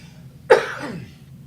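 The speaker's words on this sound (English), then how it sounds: "This freaking cough, I haven't been able to get rid of it since like 3 weeks" A single sharp cough from a lingering three-week cough, close and loud, quickly fading out against a quiet background.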